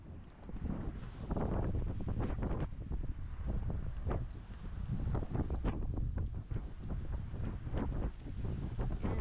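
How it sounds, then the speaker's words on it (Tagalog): Steady, heavy wind buffets the microphone throughout, a constant low rumbling roar with gusty bursts and no talking. "pagpasensya nyo po dahil mahangin"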